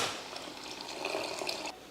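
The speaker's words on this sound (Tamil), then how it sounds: "ஒரு நெல்லிக்காய் அளவுக்கு புளி எடுத்து கரைச்சி வச்சுருக்கேன், அதையும் சேர்த்துடலாம்." Dissolved tamarind water, a gooseberry-sized lump soaked and strained, is poured into a pot of South Indian rasam, giving a steady close liquid splash and trickle for about two seconds with no talking.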